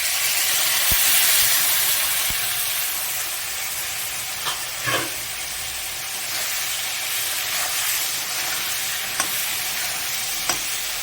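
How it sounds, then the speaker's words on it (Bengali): Potatoes frying in a pan for a Bengali cabbage curry, with ground cumin, turmeric, coriander, ginger paste and chilli powder added, give a steady close sizzle and hiss. A few brief clinks and stirring knocks break through it, and no one speaks. "এইভাবে করে আমি এগুলোকে সব ভেজে নিই।"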